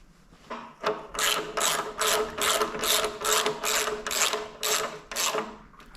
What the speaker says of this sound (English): I'm going to bring them both to snug, and then I'm going to tighten them.